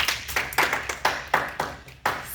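A classroom of students clapping together for a classmate, steady rhythmic claps about twice a second, loud and close, with no talk over them.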